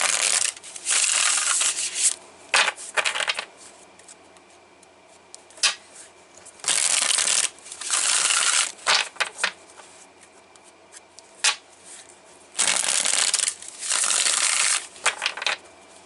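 Pulp Tarot cards being shuffled: loud, close, crisp riffling bursts lasting a second or two each, repeated several times with quieter handling noise between them and no speech.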